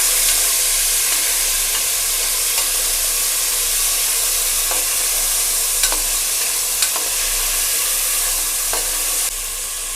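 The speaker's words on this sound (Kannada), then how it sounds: "ಸ್ವಲ್ಪ ಅರಶಿನ ಆ್ಯಡ್ ಮಾಡಿ ಚೆನ್ನಾಗಿ ಮಿಕ್ಸ್ ಮಾಡಬೇಕು" Curry masala with turmeric fries in a pan as a loud, constant close sizzle and hiss, with faint intermittent stirring clicks running through it and no speech.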